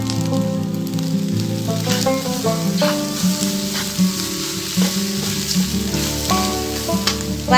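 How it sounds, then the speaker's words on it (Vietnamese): Vegetarian fried rice with fruit stirred and tossed in a frying pan, giving a steady sizzle with scraping stirs under continuous background music, no speech. "mình trộn đều lên luôn."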